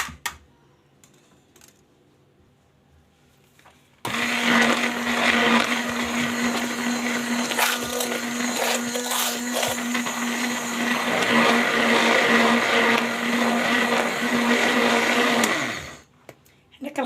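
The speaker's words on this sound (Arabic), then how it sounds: "غادي نطربها بطراب" An electric mixer beating vanilla cake batter switches on after a quiet stretch and whirs loudly and steadily for about twelve seconds with rattling against the bowl, then stops.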